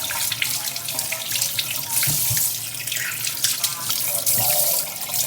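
Fresh catfish being washed under a running kitchen tap, water gushing steadily into the sink with splashes and handling sounds throughout, close and fairly loud, no speech.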